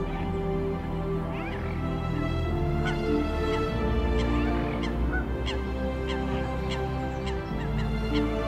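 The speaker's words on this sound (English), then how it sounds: "geese have just swum past" Geese honk repeatedly at a lake in Pennington Flash Nature Reserve, a scattered chorus of calls, some near and some farther off, over constant outdoor background noise.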